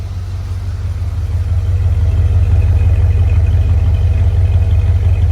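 A 1978 Dodge Monaco's 318 V8 idles steadily just after its fuel pump was replaced, a loud, close, even low rumble with a faint clatter and no talk over it.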